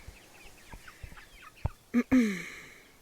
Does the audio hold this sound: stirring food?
no